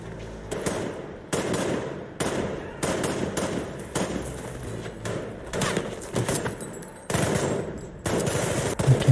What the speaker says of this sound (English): Some shooting going on.